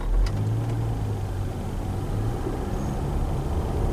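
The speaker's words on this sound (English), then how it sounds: "Gradually you accelerate" A 2023 Range Rover's engine hums low and steady under gradual acceleration, a smooth, muted drone heard from inside the cabin with faint road noise and no talking.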